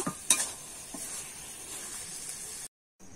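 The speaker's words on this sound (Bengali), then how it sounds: "এবারে কিন্তু আমি নাড়িয়ে চাড়িয়ে নামিয়ে নেব।" Banana flower curry being stirred in a pan, a steady high sizzle with a few sharp spoon scrapes near the start, then the sound cuts out abruptly before the end.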